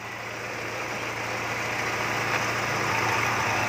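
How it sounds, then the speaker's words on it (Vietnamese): The engine of a 2003 Daewoo Nubira car idles with a smooth, steady hum and a low drone, heard close and constant with no talking. "máy nổ rất là êm"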